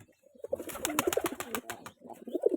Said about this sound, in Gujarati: આમાં ચકલીઓ અને આ કબૂતરનું બચ્ચું